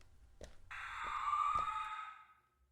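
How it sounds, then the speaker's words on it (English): A distant shriek rings out in a video game, a sustained high wavering cry that swells and fades over about two seconds, with a few soft thumps underneath. "That distant shriek."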